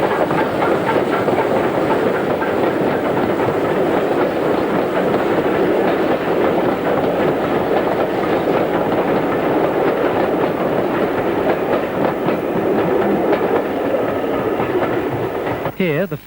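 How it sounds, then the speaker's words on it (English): Former LNER K1 steam locomotive no. 2005 hauling a train uphill north of Levisham on the North Yorkshire Moors Railway: a loud, steady, labouring rumble with fast repeated pulsing, unbroken across sixteen seconds. "the former LNER K1, number 2005, climbs to the north of Levisham, with a train bound for Goathland"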